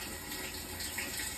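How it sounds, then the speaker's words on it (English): A Whirlpool washing machine fills with water, giving a faint, steady hiss and trickle of inflow with no voices. "So we're gonna let this continue to fill up with water."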